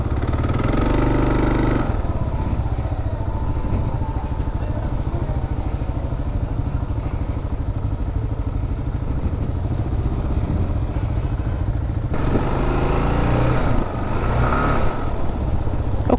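A Kawasaki KLR 650 motorcycle engine runs steadily while being ridden, a continuous low drone with rushing wind that swells louder at the start and end.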